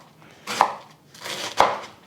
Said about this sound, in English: I'm chopping up 3 stalks of green onion